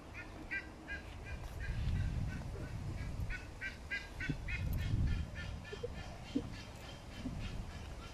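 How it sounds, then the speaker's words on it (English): A small flock of geese visiting a home in Africa honks in repeated short bursts at moderate distance, over low rumbling background noise. "And there's the geese."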